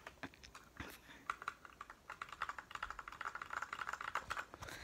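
Typing on a Royal Kludge 60% keyboard, a quiet run of rapid key clicks that starts sparse and becomes a steady, close patter.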